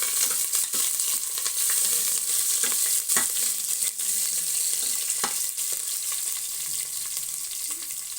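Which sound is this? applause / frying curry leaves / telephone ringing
frying curry leaves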